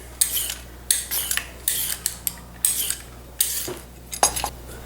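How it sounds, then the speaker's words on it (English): Carrots being peeled with a vegetable peeler for homemade vegetable soup, a series of close scraping strokes in quick bursts with brief pauses between, each stroke a bright rasp of blade on carrot skin. "I'm going to peel the carrots, and just use a vegetable peeler"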